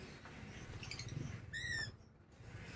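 African birds at feeding time, with a brief burst of wing flapping and a short bright chirp mid-clip over low background rumble, no talking.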